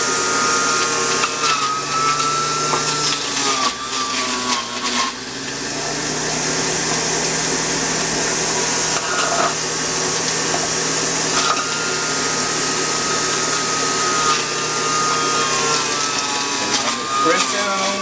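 Juicer pressing celery and carrots, a steady motor whir with grinding, crunching texture running throughout, loud and close, with a person talking over it.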